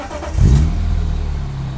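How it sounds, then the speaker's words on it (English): A BMW E46 M3 engine cranks and catches, settling at once into a loud, close, low idle rumble with no talk over it. "Let me try to start the car."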